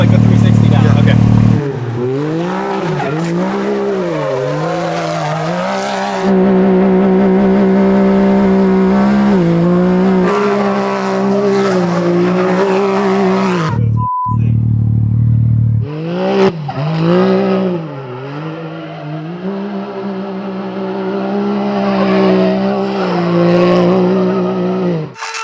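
A car spins donuts on a backyard gymkhana course, its engine revving up and down in long sweeping waves with tires squealing, loud and sustained with a brief pause midway.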